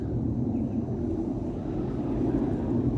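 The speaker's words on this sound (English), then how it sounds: "We just had some military take off from Lakenheath." A military jet, an F-15 or F-35, takes off from Lakenheath and produces a distant, steady low roar with some wind rumble, sustained throughout and heard outdoors.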